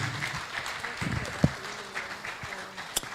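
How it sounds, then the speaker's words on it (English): Audience applause at a media awards ceremony: a moderate spread of clapping from a crowd, continuing under a speaking voice, with a couple of sharper individual claps standing out. "Another round of applause for her."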